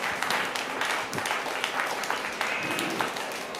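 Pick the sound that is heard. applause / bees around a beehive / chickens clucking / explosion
applause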